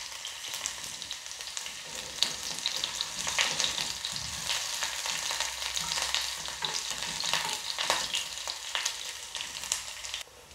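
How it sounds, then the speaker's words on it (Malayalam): Three chopped shallots frying in oil with already popped mustard seeds for a tomato and drumstick curry, a dense, steady sizzle with crackles and stirring scrapes, close and without voices. "കടുക് പൊട്ടിയിട്ടുണ്ട്. അതിലേക്ക് 3 ചെറിയുള്ളി അരിഞ്ഞതിട്ട് കൊടുക്കാം."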